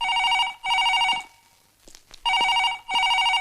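An indoor telephone bell rings in two loud, close bursts separated by a short quiet gap, with faint movement noises between the rings.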